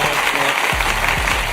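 A round of applause plays as an effect, dense even clapping at a loud, steady level, with a voice talking faintly underneath.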